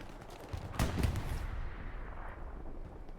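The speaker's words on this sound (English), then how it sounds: "Artillery now being called here." Artillery fire in a competitive online war-game match: a single sharp, heavy blast hits, then a rumbling tail slowly fades into a quieter ambient background.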